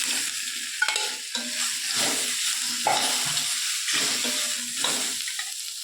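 Boiled tapioca tossed into hot tempering oil with curry leaves, giving a loud, steady sizzle and crackle, broken by repeated scraping strokes of a spoon stirring it in the pan, close up with no talking.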